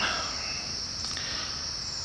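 Steady nighttime chorus of crickets and cicadas at a campsite in Rock Point Provincial Park, a dense continuous high-pitched trill filling the background with no talking; frogs are not clearly distinct.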